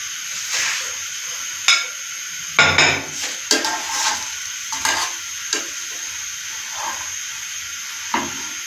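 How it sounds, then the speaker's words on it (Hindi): Bread slices frying in a pan for a spicy potato sandwich, with a steady soft sizzle and hiss and occasional clinks of a utensil against the pan as the slices are turned. "इसी तरह ही नेक्स्ट साइड से भी हमने इसे फ्राई करना है।"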